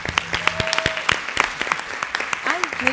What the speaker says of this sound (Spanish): le brindemos un fuerte aplauso a Patti.